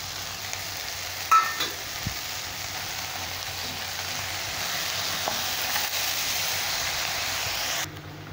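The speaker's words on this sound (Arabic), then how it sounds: "هنحط لها الطماطم المبشورة." Grated tomato poured into a hot pan already frying with hot pepper, bringing a steady, loud sizzle and hiss at close range, with small stirring knocks, until it stops abruptly near the end.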